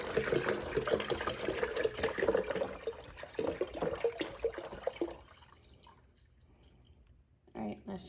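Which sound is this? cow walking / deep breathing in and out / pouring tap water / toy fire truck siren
pouring tap water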